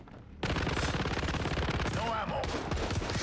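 Rapid pistol gunfire in the video game XDefiant sounds as a dense, loud volley of shots, with a brief break partway through and voices heard faintly underneath.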